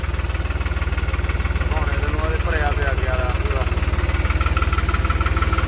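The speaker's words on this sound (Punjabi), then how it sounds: "ਚੱਲਦੀ ਆ ਮੋਟਰ ਹਜੇ ਤਾਂ" A farm motor runs steadily through the whole stretch, a constant low, pulsing hum during night-time puddling of a field. Faint voices drift over the continuous drone.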